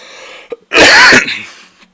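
A single loud, sharp sneeze bursts out close to the microphone after a short inhale, followed by quiet.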